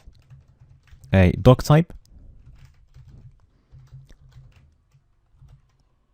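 Brief bursts of light clicking on a computer keyboard while HTML code is typed, quiet and intermittent, with someone speaking over the start.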